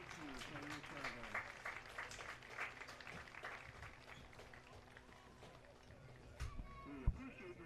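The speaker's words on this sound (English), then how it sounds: "Let's give them all a round of applause." A football crowd applauds military members standing to be recognized, a scattered, moderately distant clapping that rises and thins over several seconds, with a few sharper knocks near the end.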